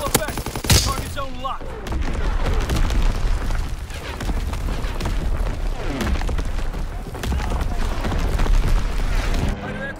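Artillery barrage in Call of Duty: WWII team deathmatch erupts in loud, repeated booming blasts and crackling gunfire, a sharp crack near the start then rolling detonations throughout, with game radio voice chatter mixed in.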